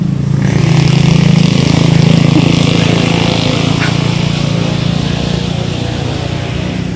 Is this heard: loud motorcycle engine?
yes